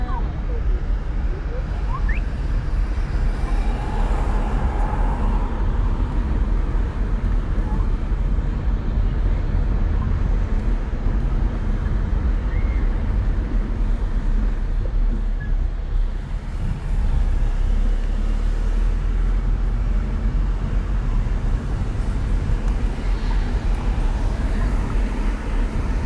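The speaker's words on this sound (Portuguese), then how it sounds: "Estou dirigindo" Steady road rumble from inside a moving car in traffic along the Navegantes waterfront in Santa Catarina, a continuous low drone with passing vehicle noise and voices talking over it throughout.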